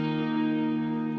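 An electric guitar plays a single sustained chord through a distortion effect, a buzzy, rich tone that rings steadily for about a second before a faint pick noise at the end.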